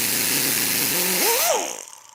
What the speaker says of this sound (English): We're just using a die grinder with a cutoff wheel.